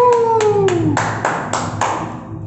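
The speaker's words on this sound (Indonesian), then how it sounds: "Tepuk tangan dong buat Tuhan." Children at a kids' church service clap their hands together in a short run of about eight sharp claps, evenly paced and close, following a falling tonal sound at the start.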